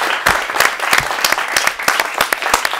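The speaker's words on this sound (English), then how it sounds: "So can we give Benjamin a round of applause?" A studio audience at a broadcasting talk applauds a BBC filmmaker, dense steady clapping filling the whole stretch at a close, lively level with no talk over it.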